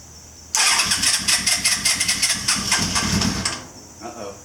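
1983 Honda CB1000 C Custom motorcycle cranking over and trying to start, a rapid rhythmic starter churn lasting about three seconds before cutting off, close and loud, the engine not catching.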